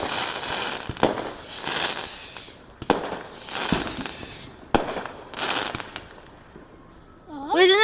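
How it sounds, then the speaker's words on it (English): Fireworks and firecrackers go off at night around 10 p.m., several sharp cracks followed by long fizzing, crackling bursts that fade between blasts, with a brief voice-like warble right at the end. "the fireworks are coming and people are sleeping"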